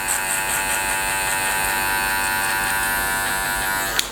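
Hair clippers with the blade open run in a steady, close electric buzz while cutting a one-inch guideline for a skin fade, holding constant until cutting off abruptly at the end.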